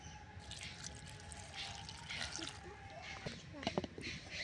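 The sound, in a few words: water poured into mango for paste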